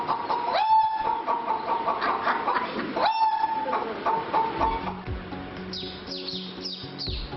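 A man imitates a wild junglefowl rooster's crow with his voice, two drawn-out rising calls followed by chirpy bird-like notes, fairly clear with some background noise.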